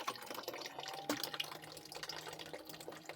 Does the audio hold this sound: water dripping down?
yes